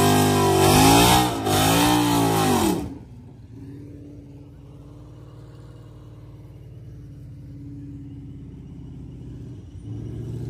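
A naturally aspirated muscle car engine revs hard and loud for about three seconds before a street race, then drops to a low, steady idle rumble that continues alone.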